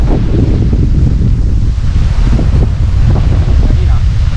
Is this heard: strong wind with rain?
yes